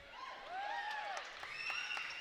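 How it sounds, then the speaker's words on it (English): Spectators at a college basketball game cheer and shout across the gym, a steady mid-distance roar with rising whistles and calls, and some voices standing out above the crowd. "Everyone's cheering for her just for her to touch the ball."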